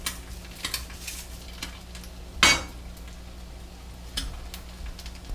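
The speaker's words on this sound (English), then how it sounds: "Give it a little stir" Ramen being stirred in a pot: a few faint scraping clinks of a utensil against metal, with one louder clatter in the middle, over a quiet kitchen background.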